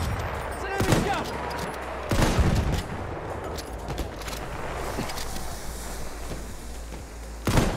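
Machine gun and mortar fire in a World War I style video game battle: constant rattling gunfire with loud explosive bursts near the start and again at the end, and a voice briefly heard among the shots.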